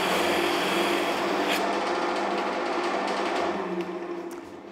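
A buffing wheel loaded with carnauba wax runs against a wooden bowl, giving a steady close rubbing, rasping hiss that holds evenly before tapering off at the end, with no talk.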